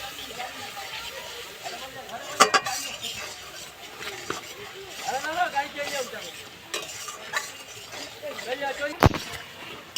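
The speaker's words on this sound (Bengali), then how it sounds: "এবার আমি মশলাটা খুব ভালো করে কষিয়ে নেবো" Spices with salt and turmeric being stirred and sautéed in oil for a Bengali vegetarian pointed gourd dish, with gentle sizzling broken by clinks and scrapes of a spatula on the pan, close by.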